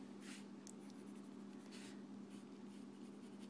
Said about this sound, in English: I'm going to go in with a little bit of light pencil